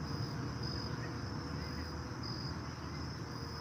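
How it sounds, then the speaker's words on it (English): Crickets chirp steadily at dusk before sunset, a continuous high trill carrying on without pause over a low background rumble. "You can hear the crickets."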